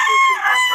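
A rooster crows loudly and close by, one brief bright call among chickens at a poultry market in Bocaue.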